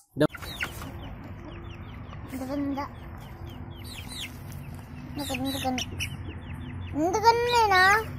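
Chickens cluck and make short rising calls nearby in bursts, with a low background hum throughout.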